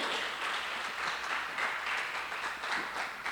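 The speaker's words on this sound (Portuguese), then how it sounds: "Dá um aplauso ao Senhor aí." Church congregation clapping during a sermon, a faint but continuous patter of many hands with slight swells, no voices over it.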